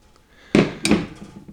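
A trim tool pries plastic push-lock finned fasteners out of the interior of an R32 GTR, giving two sharp hollow knocks in quick succession up close, each fading off quickly.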